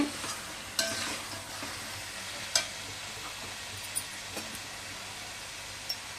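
Quiet, steady sizzle of chicken frying in a pan, with a few sharp clinks and scrapes of a utensil stirring now and then.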